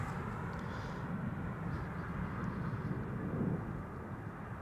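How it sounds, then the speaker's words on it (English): A jet airliner lands at an airport, a steady low engine roar with broad rushing noise holding fairly loud and even for several seconds, heard from a distance. "Rare airplane that I know you all wanted to see land."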